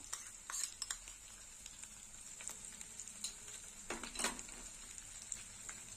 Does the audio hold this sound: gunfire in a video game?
no